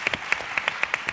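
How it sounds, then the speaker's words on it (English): Applause for a speaker at a sustainable development conference session, heard as a few sparse, distinct claps spaced irregularly, close and fairly crisp. "Please, a round of applause for him."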